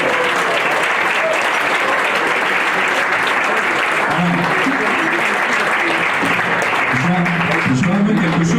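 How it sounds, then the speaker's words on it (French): Dense, sustained applause from a gala dinner audience at an association's general assembly, welcoming a woman to the stage; the clapping stays loud and steady throughout with faint crowd murmur underneath. "Et je vous demande de l'applaudir bien fort."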